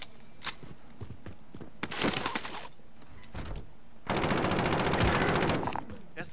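Bursts of rapid submachine gun fire in Call of Duty: Modern Warfare, short volleys early then a long sustained loud burst near the end, close and sharp.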